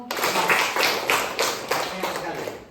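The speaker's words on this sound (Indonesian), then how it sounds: "tepuk tangan untuk Hanum" A classroom of students claps for a classmate after an Islamic studies lesson, a short burst of brisk, fairly close hand claps with uneven rhythm and children's voices mixed in.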